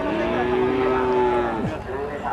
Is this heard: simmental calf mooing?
yes